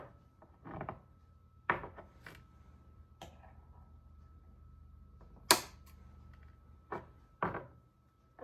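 Scissors trim candle wicks in a quiet room, giving a handful of sharp, close snips spaced irregularly over a faint hum, one notably louder than the rest, with no talking.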